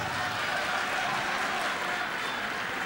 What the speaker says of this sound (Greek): δέχεται και αυτό το θερμό χειροκρότημα του κόσμου